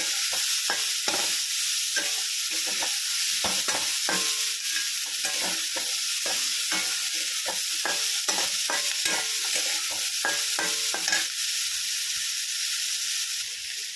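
Onion sautéing in a pan until reddish, a steady bright sizzle throughout with repeated scraping strokes of a spatula stirring at an irregular rhythm, close and alone.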